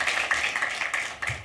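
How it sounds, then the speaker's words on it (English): An audience at a launch event claps, giving a short run of uneven, fairly quiet hand claps that lasts about a second and a half with no talking. "Let's clap for him."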